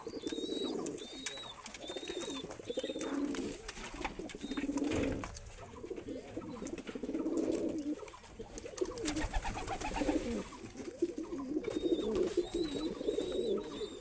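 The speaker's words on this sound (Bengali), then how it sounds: "এই যে এক পেয়ার কবুতর" Pigeons coo in a loft, soft, repeated throaty calls rising and falling close by. Thin higher chirps come through now and then.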